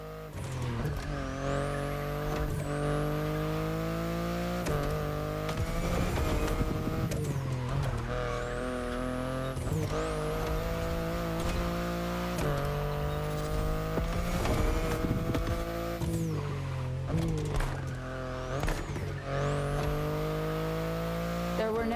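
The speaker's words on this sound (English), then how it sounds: "the i8, the sports car you're driving" A BMW i8 hybrid sports car in the racing game The Crew Motorfest drives hard, its engine revving loudly with repeated rising gear pulls, shifts and occasional tire squeals, with music faintly underneath.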